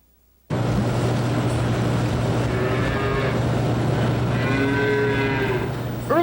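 Dairy cattle on a Wisconsin farm moo loudly and close, one long low call after another over a steady hum, with no speech.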